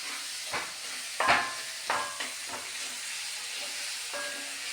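Onion, garlic paste and tomato sautéing in a pan for chicken curry, a soft continuous sizzle with a handful of scraping stir strokes spaced a second or so apart, close and fairly quiet, no talking.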